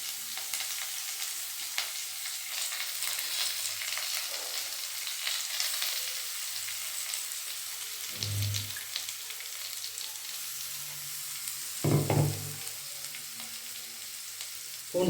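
Garlic and grated coconut fry steadily in hot oil with mustard seeds, a continuous close sizzle broken by a couple of louder stirring scrapes, no voices.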